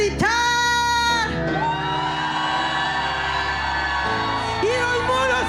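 A church congregation shouts together at a service, a loud sustained mass of voices with whoops and yells, swelling and dipping briefly then rising again over about five seconds.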